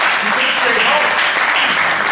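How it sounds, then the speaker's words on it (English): Loud, close applause from an improv theater audience after a show, continuous clapping and cheering with a voice over it. "So give yourself some applause."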